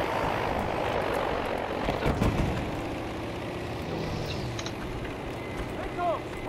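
Enemy aircraft flying in the World War II shooter game Battlefield V: a steady, loud propeller engine drone fills the scene, mixed with dense battle noise and a few sharper bursts.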